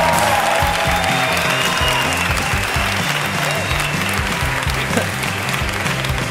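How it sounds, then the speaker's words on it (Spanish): Studio audience on a Spanish comedy talk show applauding the guest Tony Nievas, loud continuous clapping throughout with rhythmic music playing underneath. "Fuerte aplauso para Tony Nievas."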